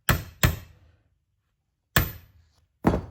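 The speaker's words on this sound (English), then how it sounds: "Just knock it down through there." A pin is hammered into an armrest during a repair: four sharp, loud knocks, two in quick succession, then a pause and two more, each ringing out briefly in an otherwise quiet room.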